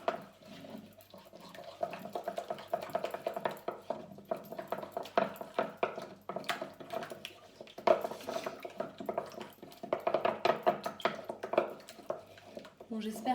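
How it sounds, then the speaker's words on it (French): Wooden spoon stirring four eggs in a bowl for a gluten-free pecan brownie batter, a close, steady run of knocking and scraping clatter with irregular louder taps. "Donc avec ma cuillère en bois, je vais mélanger tranquillement."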